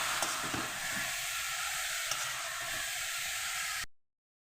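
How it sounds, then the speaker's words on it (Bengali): Leafy greens lightly frying in a pan give a steady close sizzle and hiss, with faint scraping stirs, for about four seconds before cutting to silence. "শাকটা আমি হালকা একটু ভাজা ভাজা করে নেব"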